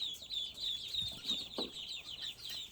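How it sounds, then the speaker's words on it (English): Thirty-four newly arrived ducklings peep in a steady, high-pitched chorus of rapid repeated chirps, close and continuous throughout, with a few soft low bumps underneath. "So there are currently 34 ducklings."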